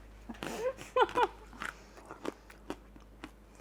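Homemade vegan honeycomb candy with carob coating is bitten and chewed close up, giving several sharp crunches followed by quieter crackly chewing.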